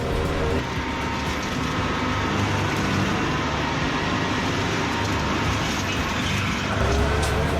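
A Baumalight brush mulcher on a tractor runs at high RPM, making a loud, steady mechanical roar with a dense rumble that holds constant throughout, with no speech.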